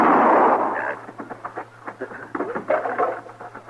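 A gunshot in an old-time Western radio drama: a loud, sharp blast at the start that decays, followed by scattered softer sounds and shuffling before dialogue resumes.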